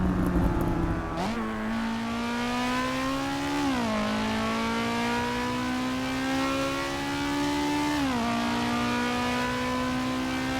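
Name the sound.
race car engine revving in video game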